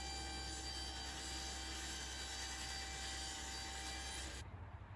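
Steady, continuous sawing through wood while a part for a golf club rack is trimmed to width, close and even in level for several seconds before stopping abruptly.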